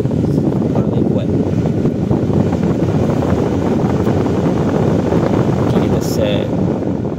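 An electric fan runs at its strongest setting, a loud, steady, broadband whoosh of rushing air close to the microphone, continuous throughout with no pauses.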